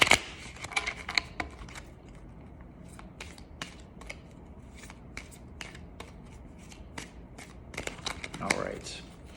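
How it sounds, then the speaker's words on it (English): A deck of tarot cards is shuffled by hand in quick papery riffles, with bursts at the start and again near the end and quieter handling in between. "Give the angels one shuffle here."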